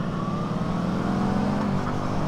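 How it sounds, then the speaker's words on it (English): Kawasaki Versys 650 motorcycle with a 180-degree crank parallel-twin engine, a steady close engine drone under load with a faint rising pitch, continuous and alone without talk. "180-degree crank engine like this right here."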